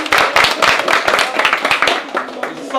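Applause and clapping for visiting guests during a Twitch live stream, a dense burst of many hands clapping fairly close and steady for about three seconds, tapering slightly at the end, with some voices mixed in.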